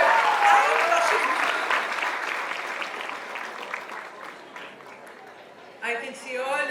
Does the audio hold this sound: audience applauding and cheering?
yes